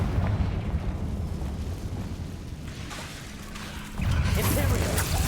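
A Confringo blasting spell cast in a Harry Potter video game, a loud rushing explosive burst that swells near the end over a continuous rumbling game background, with no talk.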